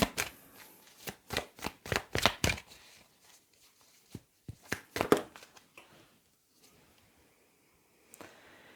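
Tarot cards are shuffled in a quick run of crisp riffling bursts, followed by a few softer slaps and slides as single cards are drawn and laid down. The handling is close, quiet and wordless, ending in near silence with one last brief rustle.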